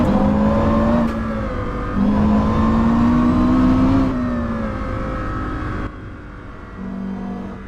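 Porsche Carrera GT engine revving hard through several gears, each pull climbing in pitch then dropping at the shift, loud and close with a wailing tone, easing off near the end.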